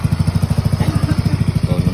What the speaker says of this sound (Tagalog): Pinapainit pa yung makina.